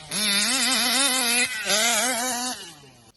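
A 50GT RC Max gas engine with a WJ carburetor runs in an RC Baja buggy, a loud, close, nasal buzz that holds steady, dips briefly, then revs again before cutting off.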